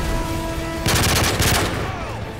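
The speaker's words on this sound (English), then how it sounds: "Start shooting, start throwing some grenades everywhere I possibly can, and just watching them explode." Gunfire in the Modern Warfare 3 campaign, a rapid burst of shots crackling loudly for about a second over a noisy game background, with a brief second volley after it.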